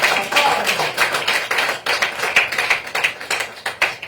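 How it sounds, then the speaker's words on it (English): Crowd applause at a tribute ceremony, a dense run of many hands clapping with sharp overlapping claps, loud and close, holding steady throughout. "Let's give them a round of applause,"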